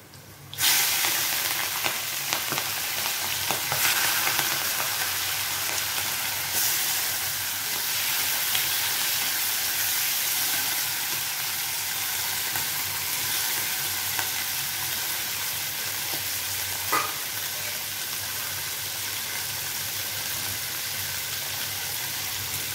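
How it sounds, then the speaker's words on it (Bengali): Shrimp coated in salt and turmeric frying in hot oil tempered with white cumin, for a bottle gourd and shrimp dish; a loud, steady sizzle runs throughout with occasional stirring scrapes and no talking. "এখন চিংড়ি মাছটাকে সুন্দর করে এই ফোড়নের মধ্যে ভাজা ভাজা করে নেবো"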